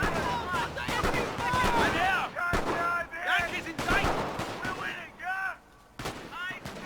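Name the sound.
machine gun fire in Company of Heroes Great War mod video game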